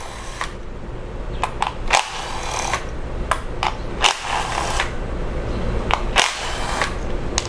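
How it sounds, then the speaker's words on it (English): A ratchet with a 10mm socket clicks in quick bursts while ignition coil bolts come off a Jeep Cherokee engine, with several short close ratcheting runs separated by brief pauses and no talking. "remove the ignition coils now with a 10mm socket"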